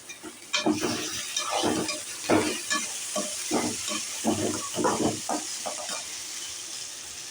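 Boiled raw banana pieces tossed with onions in a hot pan for a vazhaikai poriyal, a run of close scraping stirs over a steady sizzle, with no voices.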